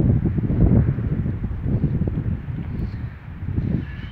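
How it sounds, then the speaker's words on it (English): Steady wind buffets the microphone outdoors at a rocket park, with low, gusty rumbling that swells and eases over a few seconds, with no voices. "you probably hear a lot of wind in the background"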